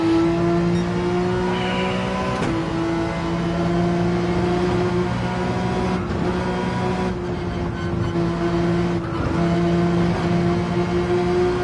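A race car engine in a racing video game holds full throttle in fourth gear: a loud, steady high-pitched drone with brief dips at a few gear or pitch changes, running alone with no talk.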